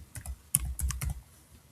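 Computer keyboard typing a form name, a quick close burst of about half a dozen crisp key clicks that stops after a second, no talk.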